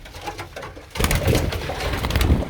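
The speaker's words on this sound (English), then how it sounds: "Now I need to get all the birds into here" Pigeons cooing inside a pigeon loft, close and fairly loud, with soft rustling and continuous low coos that grow stronger partway through, and no talking.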